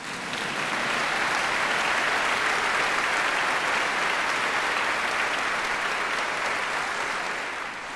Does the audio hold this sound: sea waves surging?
no